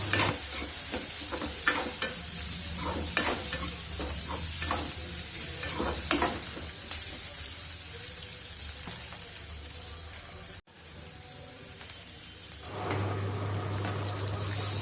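Onions with turmeric fry in a pan while being stirred. Scraping strokes of the spoon sound repeatedly over a soft sizzle, then the stirring stops briefly and a steadier, louder frying hiss takes over toward the end.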